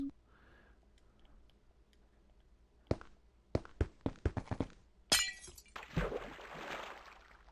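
Glass blocks breaking in the Minecraft video game, a run of sharp clinks and crunches in quick succession followed by a louder shattering burst, loud and close with no talk.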